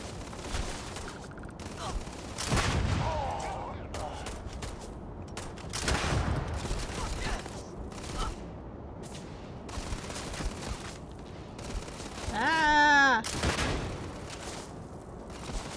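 In a video game, a weapon fires in scattered bursts of gunshots, some louder and some fainter, under game sounds and a brief voice.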